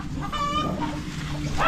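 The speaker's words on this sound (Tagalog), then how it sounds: "Mga manok ni Lolo Boy" Backyard chickens clucking close by, a short burst of throaty clucks and calls over low background noise, with no talking.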